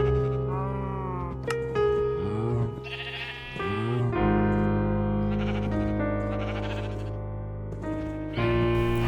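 Sheep bleating in a video game, several loud, wavering bleats overlapping one another over a steady droning background, close and continuous.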